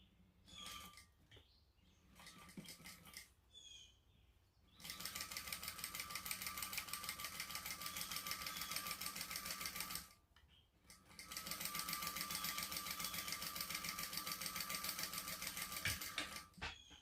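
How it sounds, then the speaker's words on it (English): A sewing machine topstitches along the folded edge of a backpack, its needle hammering in a fast, even rhythm through two long runs with a short pause between, close and clear, with quieter handling sounds at the start. "we have to top stitch along the folded edge here."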